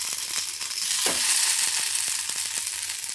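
Food shallow frying in a lightly oiled pan, a loud continuous hiss and crackle with a few soft clicks and one brief scrape, close and without talk.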